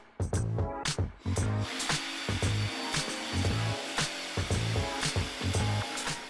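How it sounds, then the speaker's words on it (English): A jigsaw cuts wood pieces for a project's arms and legs, a loud buzzing reciprocating cut running in repeated bursts with brief pauses between passes, close up and with no talk. "With most of the work done with a jigsaw"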